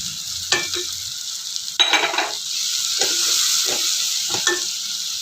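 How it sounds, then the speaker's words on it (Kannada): Fenugreek greens sizzle steadily in hot oil in a pan, with a constant frying hiss broken by several sharp scraping stirs of a spoon, heard up close with no talking. "ಇವಾಗ ಸ್ವಲ್ಪ ಎಣ್ಣೆಯಲ್ಲಿ ಬಾಡಿಸ್ಕೋಬೇಕು"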